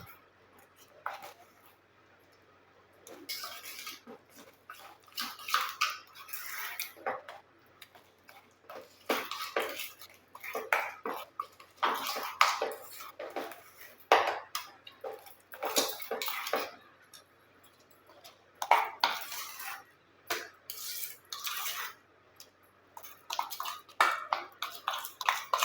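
Hair dye paste of henna powder with a teaspoon of katha powder and a brewed decoction, mixed in a bowl, gives off intermittent scraping and clinking strokes in irregular bursts, fairly close, with no voices.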